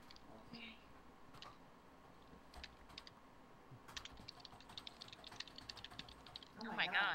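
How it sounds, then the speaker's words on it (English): Soft, rapid keyboard clicks patter quietly through the clip, with a denser, louder burst of keystrokes near the end. "You can hear your keyboard"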